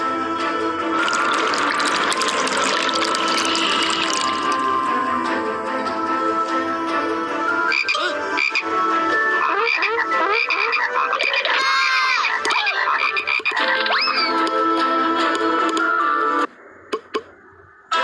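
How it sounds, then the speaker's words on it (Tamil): A loud, dense chorus of frogs croaking, overlapping rhythmic calls and ratcheting trills filling the scene continuously before cutting out near the end. "எங்கு பார்த்தாலும் தவளைகள்."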